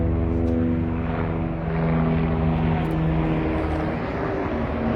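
A police helicopter flies overhead, its steady rotor and engine drone loud and continuous, with a strong low throbbing hum that holds evenly throughout and no talking.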